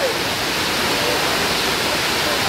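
Waterfall at a zoo enclosure beside a lake, a steady full-band rush of falling water that stays constant and fairly loud throughout, with no other distinct sounds.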